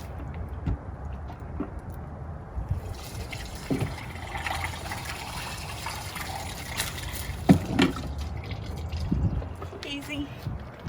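An RV toilet cassette empties at a dump station with a faint, uneven trickle and splash of liquid under low background noise and a few voices.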